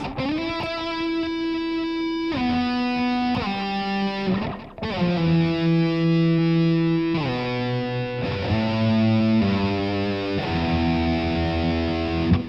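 A distorted electric guitar plays the descending line from the bridge of a rock song in sustained, heavily overdriven notes, loud and continuous throughout.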